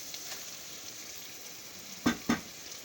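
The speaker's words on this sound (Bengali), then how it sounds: "চিকেন ম্যারিনেট করা চিকেনগুলো আমি ঢেলে দেব" Marinated chicken is poured into spice masala frying in a pan, giving a steady, soft sizzle with two sharp clanks close together near the end and no talking.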